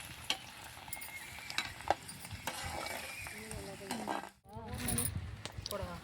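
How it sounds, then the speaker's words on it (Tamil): Koozh vadagam, a sun-dried rice-flour crisp, frying in hot oil with a steady close sizzle and crackle throughout, and people talking over it. "கொஞ்சமாக பார்த்திங்கன்னா கூழ் வடகம் பொரிச்சிட்ருக்கோம்"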